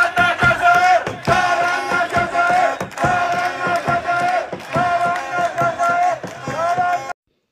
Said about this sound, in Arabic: شجعت الجماهير السورية المنتخب الجزائري